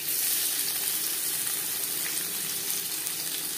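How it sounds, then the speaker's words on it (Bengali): Panch phoron, a Bengali five-spice mix, frying in hot refined oil, a steady dense sizzle that holds at an even level throughout, with no voices. "পরিমাণ মতো রিফাইন্ড অয়েল গরম করে নিয়েছি, দিয়ে দেব 5 ফোড়ন।"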